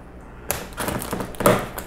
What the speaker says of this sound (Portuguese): Então agora tem que me virar com essa tesoura aqui que não corta em nada.